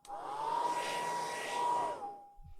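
A hair dryer in a video game, used on wet dynamite, runs with a steady whirring blow for about two seconds, then switches off, leaving a faint hum.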